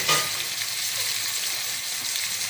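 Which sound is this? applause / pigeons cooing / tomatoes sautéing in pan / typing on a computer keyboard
tomatoes sautéing in pan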